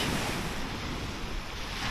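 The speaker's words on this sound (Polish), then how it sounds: "Także Daniel, dla Ciebie przyjechałem nad morze." Steady rush of sea surf at a bay mixed with wind buffeting the microphone, a continuous broad roar with no talking.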